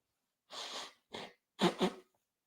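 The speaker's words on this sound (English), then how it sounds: "let me just blow my nose" A person blows their nose in three bursts of breathy, snorting noise with short pauses between them, close and fairly loud, with no talking.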